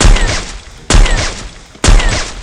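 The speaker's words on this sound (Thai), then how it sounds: "ยิงแบบโนสโคปนะ" Three loud, sharp AWM sniper rifle shots fired without a scope in a video game, evenly spaced about a second apart, each a booming crack followed by a fading tail.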